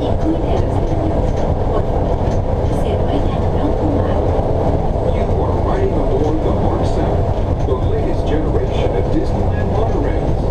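A Disneyland monorail train runs with a continuous, loud, rumbling roar heard from inside the car, with muffled voices mixed in.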